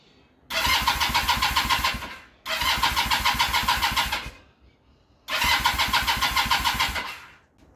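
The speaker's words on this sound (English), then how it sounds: "Anyways, no choke, just gonna start it up." A Kawasaki KZ440 motorcycle, started with no choke, cranks in three separate pulsing bursts of a second or two each, the starter chugging rhythmically up close before each attempt cuts out without catching.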